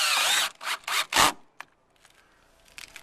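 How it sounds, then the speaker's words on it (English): A power drill drives lag screws through the holes of an eave mount in a few loud, close bursts, then stops, leaving only faint handling noise. "have the drill ready and a few lags setting out to the side"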